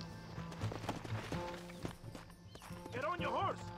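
Horse hooves clip-clop in the Red Dead Redemption video game, a steady trot of beats mixed under near continuous talking and game music.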